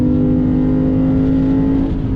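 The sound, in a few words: Lexus IS 500 F Sport Performance engine accelerating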